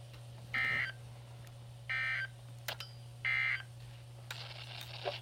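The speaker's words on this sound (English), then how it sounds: "This concludes the test of the NOAA Weather Radio Warning Alarm device and emergency alert system." A NOAA Weather Radio emergency alert system weekly test sends three evenly spaced bursts of shrill, buzzy data tones, each about a third of a second long. A brief click and a noisy tail follow over steady broadcast hum.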